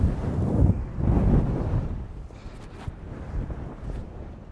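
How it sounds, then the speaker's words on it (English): Strong gusts buffet a microphone outdoors in an open landscape, heavy low rumbling surges that swell and fade, loudest at the start and easing toward the end. "It's quite windy."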